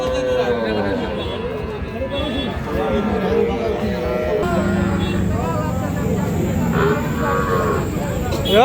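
A four-month-old Sahiwal calf moos loudly several times up close, long drawn-out lows, while people chatter in the background of a busy outdoor cattle market.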